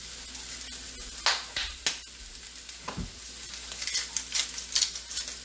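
Onions, mushrooms and hash browns sizzle steadily in a pan, with clicks and scrapes of stirring and a few louder knocks of a utensil against the pan, close and faint, with no talk.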